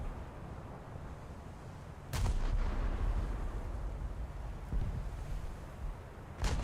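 Naval gunfire from warships in the game War Thunder, one loud heavy blast followed by rolling rumble, with a second shot near the end, over steady wind and sea noise.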